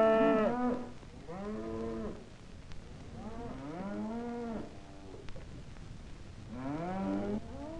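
Cattle at the Wichita, Kansas stockyards low repeatedly, several long drawn-out moos from different animals rising and falling over a steady rumble of yard noise, fairly close.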